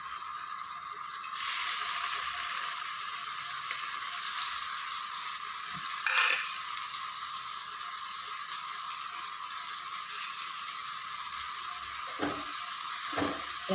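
Manathakkali (sukkitti) greens go into a pan with tomato and garlic for soup, making a continuous frying sizzle with a few scraping stirs and clacks of a utensil against the pan, heard up close with no voices.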